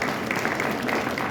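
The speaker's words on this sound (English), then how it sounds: "So can we get a round of applause for Officer Wilson?" A crowd claps for Officer Wilson, named Cop of the Month at a precinct gathering, a steady dense patter of hands held at an even level through the short stretch with no speech over it.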